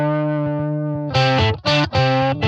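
Distorted electric guitar playing a sustained note with a bend, then a few heavy choppy chords, loud and close through a thick effects chain, alone with no talk.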